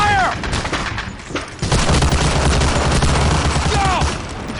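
World War II gunfire in Medal of Honor: Allied Assault on the Omaha Beach level, with loud rapid bursts of rifle and machine-gun fire rattling almost continuously and a distant boom now and then.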